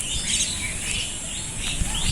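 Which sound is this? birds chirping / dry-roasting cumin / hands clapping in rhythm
birds chirping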